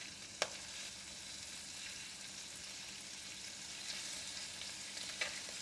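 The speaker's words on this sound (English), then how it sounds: "When oil is hot, put in the prawns one by one." Prawns sizzling in hot garlic oil in a pan, a steady bright frying hiss with a couple of sharp clicks of utensils, no talking.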